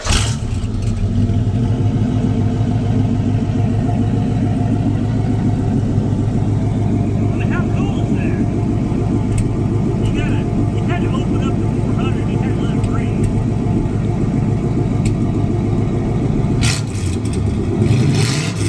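A 1977 Pontiac Bonneville engine idles close by, a loud, steady low rumble running throughout with a brief rev near the end and faint talk beneath.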